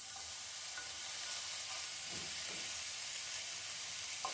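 Meat fat sizzling in a pan for kavurma, a continuous close hiss with faint occasional pops and no one talking.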